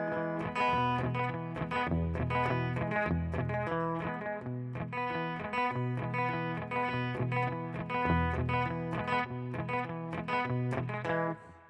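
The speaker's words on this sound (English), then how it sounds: "what you're hearing there is palm muting" Electric guitar with a distorted tone strums a steady, chugging palm-muted rhythm for a jam, dense and continuous at a moderate tempo with no pauses and no talking.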